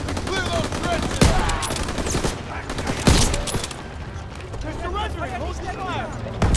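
Gunfire in the World War II shooter Call of Duty during the Operation Cobra trench assault: dense rattling machine-gun bursts and sharp single shots, loud and close, mixed with soldiers shouting over the fighting.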